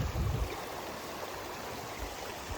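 Lake water flows and gurgles steadily between rocks at a mountain lake, a continuous broadband rush heard close by with no voices.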